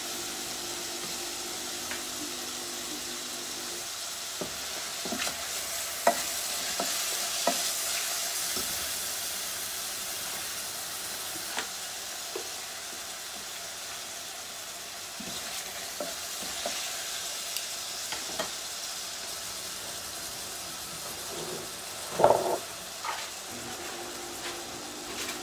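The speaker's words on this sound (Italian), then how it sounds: "il pesce sta iniziando a bollire" Fish starting to boil in a pot over a flame in a Sardinian kitchen, a steady soft bubbling and sizzling hiss with scattered clinks and taps of utensils, fairly quiet and continuous.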